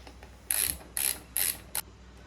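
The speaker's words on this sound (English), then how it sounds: "So I'm just going to use my normal 10mm to get them snug." A 10mm socket ratchet snugging side cover bolts on a Go Power Sports Rascal mini bike, heard as four short, close ratcheting bursts, the last one briefer, with quiet pauses between.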